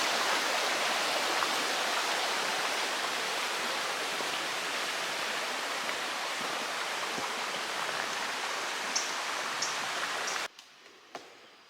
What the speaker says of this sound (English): just right along this little creek